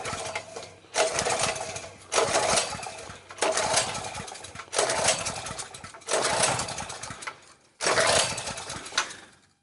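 A portable generator is pull-started by hand, with about five rough, loud cranking bursts roughly a second each, separated by short pauses, and the engine never catches and runs.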